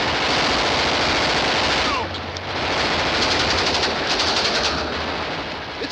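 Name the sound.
gunfire in an old King of the Texas Rangers serial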